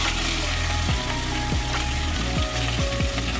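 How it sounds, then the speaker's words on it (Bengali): Pieces of bhetki fish sizzle as they fry in hot oil, a loud, close and continuous crackling hiss with a few soft knocks underneath. "এবার মাছগুলো আস্তে আস্তে করে তেলের মধ্যে"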